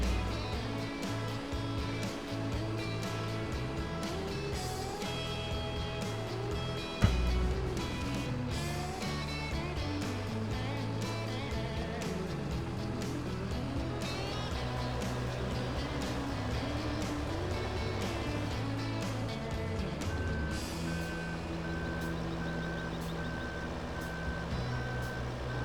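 In Farming Simulator 15, a truck drives closer with a steady engine drone while its reversing alarm beeps in an even, repeating rhythm, faint and continuous, with no talk.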